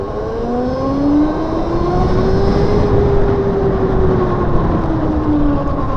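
A DAB e-RS electric motorcycle pulls away and accelerates, its motor whine rising steadily in pitch over a broad, constant rush of road and wind noise, with no talking.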